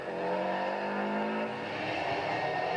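Ari Vatanen's 1991 RAC Rally of Great Britain car, engine misfiring, drones loudly with a steady tone that falters and turns rough and uneven partway through, heard alone at close range.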